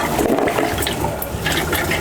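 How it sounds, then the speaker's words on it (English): Palm fruit juice mixed with hot water being poured and pressed through a sieve, a close, continuous splashing and trickling of liquid with gurgling bursts. "So I'm going to sieve it out now."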